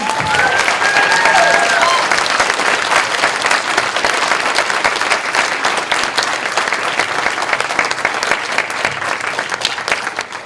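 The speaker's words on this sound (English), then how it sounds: "Round of applause, boys and gentlemen." A packed audience at a Twin Peaks fan festival celebrity Q&A breaks into loud, sustained applause with some cheering, steady for about ten seconds.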